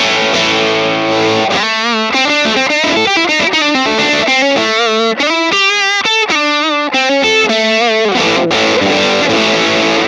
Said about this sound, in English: The boost adds a nice extra kind of punch to the gain stage.